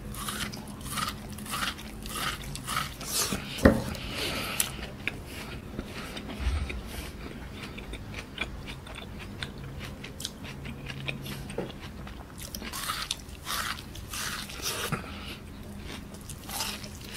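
Crunchy biting and chewing of sugar-free frozen fruit ice cream on a stick, close to the mic, with repeated crisp crunches and steady chewing throughout and a few louder snaps.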